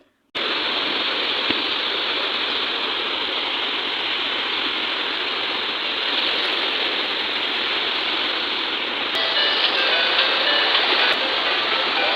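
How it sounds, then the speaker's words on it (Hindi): Sea waves wash ashore on a seaview beach, a loud continuous broadband roar that starts abruptly and holds steady with no pauses and no voices. "ये लहरों का शोर बहुत ज़्यादा सुकून देता है"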